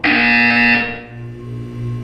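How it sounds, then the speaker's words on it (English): Loud harsh electronic buzzer from the Portal 2 video game, one sustained blaring tone that fades into a lower hum, no voices. "When you hear the buzzer, look up at the ceiling."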